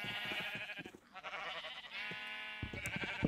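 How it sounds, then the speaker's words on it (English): Several Minecraft sheep bleat in quick succession, wavering, nasal cries that overlap and follow one another across a few seconds, fairly faint and close. "let's try to get some of these sheep over there"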